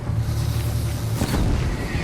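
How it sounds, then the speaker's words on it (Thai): An explosion in the video game Horizon Zero Dawn, a deep rumbling boom with a brief louder burst midway, heard alone without talk. "เออ ระเบิด"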